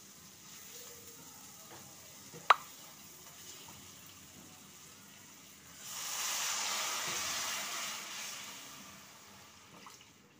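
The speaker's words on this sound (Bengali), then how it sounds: "এবার এতে আমি একটু বেশি জল দেবো।" Water poured into a pan of frying snake gourd curry, producing a steady hissing sizzle that swells for a few seconds after a single sharp clink, then settles.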